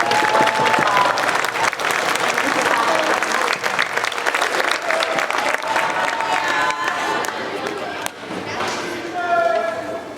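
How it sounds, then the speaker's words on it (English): Audience applause after a middle school orchestra winter concert, a dense, loud burst of clapping from a large crowd with some cheering, continuing steadily for the whole stretch and fading slightly near the end. "All of our orchestras one more round of applause"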